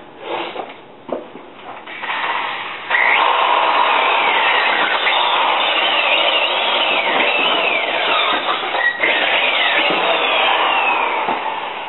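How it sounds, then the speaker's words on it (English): A loud, steady drill grinds continuously into concrete for several seconds after a few short starts, with a harsh, gritty whine close to the microphone. "how easy that drill just dug into that"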